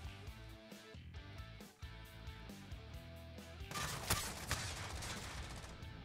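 Gunfire in Modern Warfare 2020 during a multiplayer match, a bursting fusillade of shots from several directions that builds louder in the second half over game music and effects.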